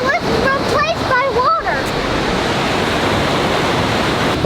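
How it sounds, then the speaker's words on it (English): Loud, rushing water of the Rogue River gorge in Oregon churns as a constant broad roar, steady and close, with a few seconds of someone's voice over the start. "I don't know if you can hear me over the sound of the rushing water."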